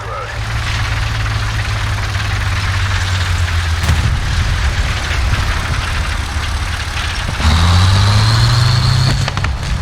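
The Jagdtiger tank engine in War Thunder, fitted with a sound mod, gives a loud, heavy low rumble that holds steady, dips, then swells again in pitch as it revs.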